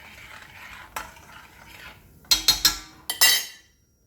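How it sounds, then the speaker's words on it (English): A spoon stirs rice in a pot, giving soft scraping at first and then several loud clinks and knocks against the metal near the end, close up. "Give it a stir."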